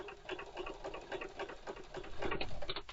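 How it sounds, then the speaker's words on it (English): A sewing machine fitted with a ruffler presser foot runs steadily, its rapid needle chatter and mechanical ticking close and continuous with no talk over it. "Then we'll put our needle down. Then let's start sewing."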